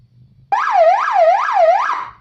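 A Bluetooth motorcycle speaker with a police-escort horn plays a siren alarm mode, a loud electronic wail sweeping quickly down and up in about three repeated cycles, bursting in suddenly and playing alone at close range.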